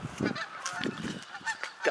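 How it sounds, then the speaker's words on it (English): Geese or ducks flying overhead on a morning outdoors, several short nasal honks in an uneven chorus, moderately near and alone without talk. "got some geese or ducks flying this morning"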